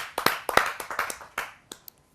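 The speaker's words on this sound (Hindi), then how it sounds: "आइए जोरदार तालियों से हम उनका स्वागत करते हैं।" An audience at a Hindi kavi sammelan applauds to welcome a poet. The clapping comes in uneven bursts that swell, then thins to a few scattered claps before it stops.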